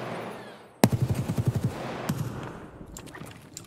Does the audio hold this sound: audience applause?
no